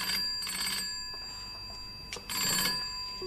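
A telephone bell rings in two loud bursts with a short pause between, close and clear, no voices.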